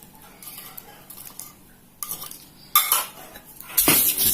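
Metal utensil stirring and scraping salted anchovies into coarse peanut sambal in a pan, a string of close clinks and scrapes that grow louder and busier toward the end, with no talking.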